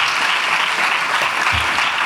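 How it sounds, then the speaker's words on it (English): An audience gives steady, dense applause for an acting commissioner at a small business expo keynote at Malcolm X College, close and sustained throughout. "Please give him another round of applause."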